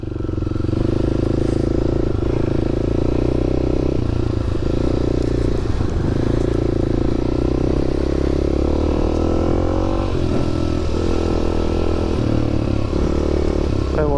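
Motorbikes passing by on a road, a loud steady engine drone that swells and shifts pitch as they go past, running throughout with no talk.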